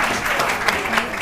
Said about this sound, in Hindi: फिजा के लिए बहुत सारी ताली